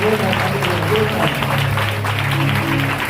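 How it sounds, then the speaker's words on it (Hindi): A church congregation at a healing prayer service claps loudly, a sustained wash of applause from a crowd with voices talking over it throughout. "जोरदार ताली बजाओ।"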